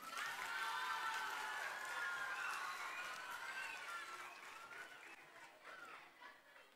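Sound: audience applause

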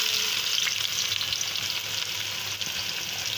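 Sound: onions frying in hot mustard oil

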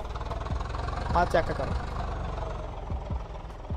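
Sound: modified tractor engine idling

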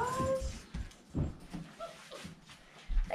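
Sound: puppies whimpering

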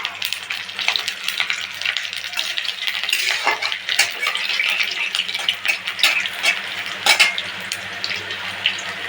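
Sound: garlic and black cumin frying in hot oil

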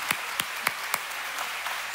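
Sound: congregation clapping hands

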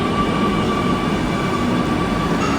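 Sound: metro train

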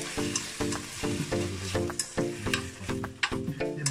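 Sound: stirring and frying bacon, sausage and avocado in a pan

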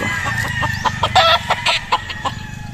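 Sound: young roosters (stags) being picked

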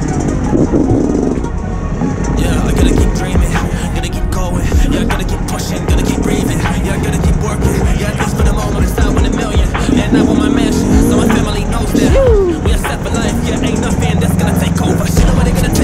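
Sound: Yamaha YZ125X dirt bike engine running

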